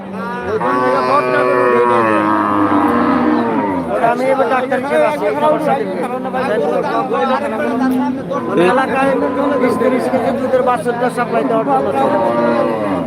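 Cattle at a livestock market in Kaitla, Tangail, moo and low loudly and often, close by, over a busy crowd of people talking in the background.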